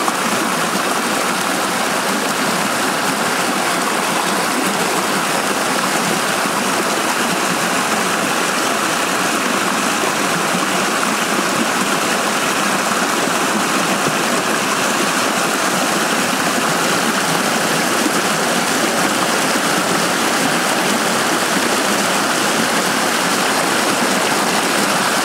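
A small roadside waterfall near a cabin road in North Carolina rushes steadily and fairly loudly, a continuous broadband wash of falling water with no voices.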